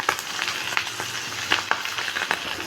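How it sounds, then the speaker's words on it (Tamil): Finely chopped garlic and ginger fry in a pan with egg and chicken for fried rice, giving a bright crackling sizzle with repeated stirring scrapes in an uneven rhythm. "இந்த ஸ்டேஜில் வந்து நான் பொடியாக கட் பண்ணி வச்ச பூண்டும் இஞ்சியும் நான் இதில் ஆட் பண்ணிக்கிறேன்."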